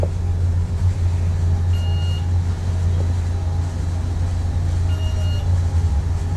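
Traction elevator No. 4 aboard the BC Ferries vessel Coastal Renaissance travels between decks with a steady low machinery hum. A few faint beeps and a soft click sound over it, with no talking.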